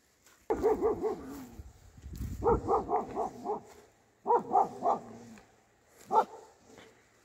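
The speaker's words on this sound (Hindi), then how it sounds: "फीमेल डॉग है इधर ही एक, तो वो पता नहीं भौंक रही है बहुत ज़्यादा" A dog barks in quick clusters of three or four sharp barks, with pauses between, fairly close and loud.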